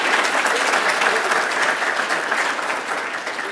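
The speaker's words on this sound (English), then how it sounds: "Yes, round of applause." A crowd at an awards gala in a club in Atlanta claps loudly to welcome a golf foundation intern, a dense, steady applause that eases off slightly toward the end.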